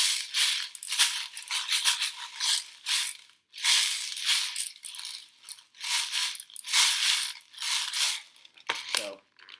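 BBs are loaded into an Elite Force SL14 airsoft magazine, producing close, repeated bursts of bright rattling, ratcheting clicks with short pauses between them.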